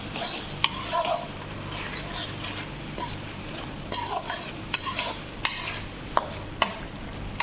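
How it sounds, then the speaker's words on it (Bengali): Spices being stirred and fried in a pan on a home stove, with a soft continuous sizzle and sharp scrapes and clinks of a spoon against the metal, while people talk nearby. "আর এই যে মশলা কষাইতেছি"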